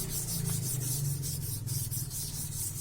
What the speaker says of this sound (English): maybe been sanding for several days now